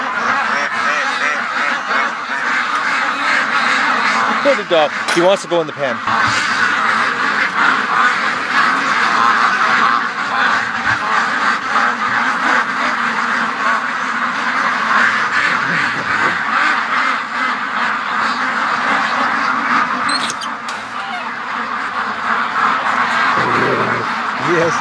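Flock of farm ducks quacking continuously and noisily in their pen at morning, close and loud, with someone speaking briefly over the din.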